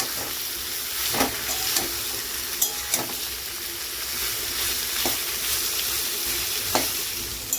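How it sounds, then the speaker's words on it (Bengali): Onions fry in hot oil toward golden brown for a chickpea ghugni, a constant hissing sizzle with occasional clinks and scrapes as they are turned over. "পেঁয়াজটাকে মোটামুটি গোল্ডেন ব্রাউন করেই ভাজবো"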